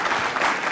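Brief burst of audience applause at an innovation summit closing keynote, dense and steady clapping from a crowd of listeners, moderately loud and without talk.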